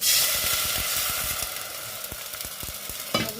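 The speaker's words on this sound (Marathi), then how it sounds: "स्टीम निघते स्टीम निघेपर्यंत हाताचा वेळ घेऊ आपला" Steam hissing from a pot of dal after water is added to the tempering: steady hiss and sizzle with occasional clinks, close by and fairly loud throughout, no talking.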